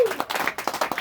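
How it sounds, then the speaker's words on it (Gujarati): An audience claps together for about a second, a quick burst of applause with individual claps close and distinct. "એના માટે એક જોરદાર તાળીઓ પાડીએ આપણે"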